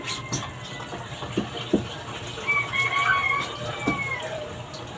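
Water from a tap is poured into a pot of chicken adobo, a faint, uneven trickle and splash with a few soft clinks.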